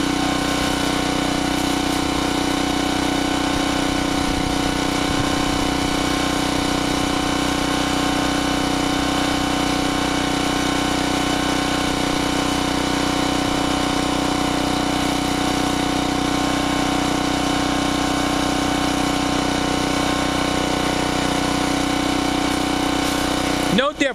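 A Generac 750 watt portable generator engine runs steadily throughout, a constant mid-pitched drone with strong harmonics and no pauses, loud and close.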